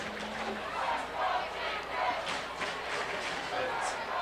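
High school football crowd cheering for the Utica Chieftains against the Roseville Panthers, a steady broad roar with swelling bursts throughout, loud and continuous from a stadium.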